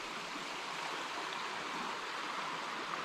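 Water flows steadily near a trail campsite in Alabama, a broad, even rushing like a stream, constant and moderately distant, with no voices.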